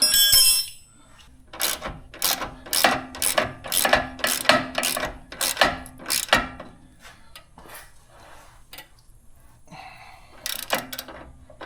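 A ratchet tightens a bolt on a broken steering bracket, a quick series of sharp clicking bursts in rhythmic strokes, then a pause and a few final clicks.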